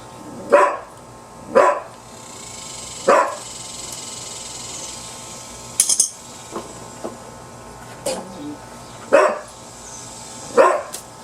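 A dog barks in sharp separate bursts, about eight in all at irregular gaps, loud and close against a quiet background.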